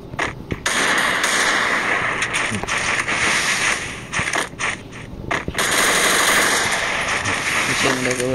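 Rapid automatic gunfire from the Free Fire video game rattles in dense, loud bursts, broken by short pauses, with a voice talking over the shooting.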